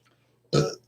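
A single short, loud burp close to the microphone, after a moment of near silence.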